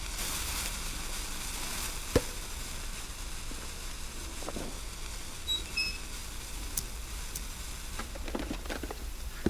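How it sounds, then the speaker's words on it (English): A lit flare in the survival video game The Long Dark burns with a steady hissing, crackling sizzle, continuous and fairly quiet, with occasional small pops and clicks. "We'll go to light a flare and head through the busted doors"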